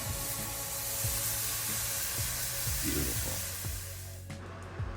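Thin garlic bourbon marinated steak on a grill in cold outdoor weather, giving a steady close hiss and sizzle with a few faint clicks, with no talk over it.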